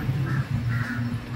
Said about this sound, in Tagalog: Mga uwak na.